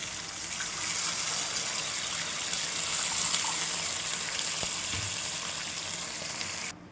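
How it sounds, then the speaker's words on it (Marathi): Water being poured into a pan of millet for a village-style bharadi, a continuous close gushing splash lasting several seconds before cutting off. "तर पाणी घालून घेते मी."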